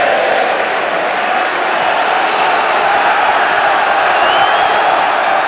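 About 25,000 home fans at Vicarage Road roar during a 1983 Watford v Fulham FA Cup fourth-round match, a steady, dense wash of crowd noise that holds at full volume throughout, with no single voice standing out.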